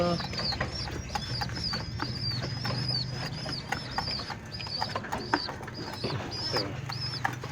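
Pigeons or doves coo repeatedly near a nest with eggs, soft rolling calls recurring steadily over a low background hum, with a few sharper chirps scattered throughout.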